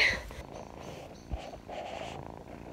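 A kitten purrs close by in a soft, low, steady rumble, with faint background rustle and a brief thump partway through.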